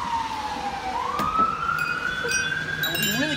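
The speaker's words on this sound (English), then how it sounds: "Hear those wild sirens going." Emergency vehicle siren wailing in a city, a rising and falling tone sweeping steadily over background traffic noise, moderately loud and fairly close.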